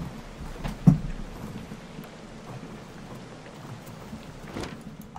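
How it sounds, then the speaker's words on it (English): Steady video game rain in Don't Starve Shipwrecked hisses throughout, with a low rumble of distant thunder and a brief thump early on; no voices. "And it's raining"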